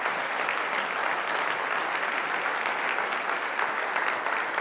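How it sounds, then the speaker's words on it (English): A crowd of attendees at a foundation event applauds its board members, producing a thick, even wash of clapping that holds steady for several seconds without any speech over it. "Give me my board a round of applause, the members who are here."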